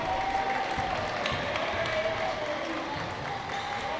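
Home crowd in the Mount Horeb fan section cheering and clapping at a boys high school basketball game, a steady dense roar of applause and voices throughout.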